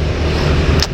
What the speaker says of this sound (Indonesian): Arus lalu lintas di Kabupaten Maros berjalan lancar.